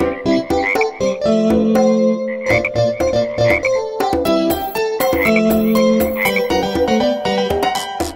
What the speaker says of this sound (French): Trois petites grenouilles tachetées, assises sur une bûche tachetée